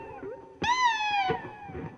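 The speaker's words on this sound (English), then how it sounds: "We got a kitten that's wanting some food out there." A hungry kitten meows once, a long, clear, high-pitched cry of about three-quarters of a second, close by, with quieter household noise before and after.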